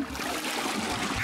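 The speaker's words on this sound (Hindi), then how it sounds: "अब फ्लश करता हूँ।" A toilet flushing in a cartoon, a short steady rush of running water heard alone with no voices.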